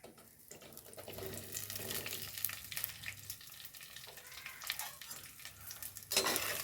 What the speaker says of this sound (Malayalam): ഇതിലേക്ക് പച്ച വെളിച്ചെണ്ണ ഒഴിച്ചു കൊടുക്കേ ഇനി വെണ്ടയ്ക്കാണ് ഇട്ട് കൊടുക്കുന്നത്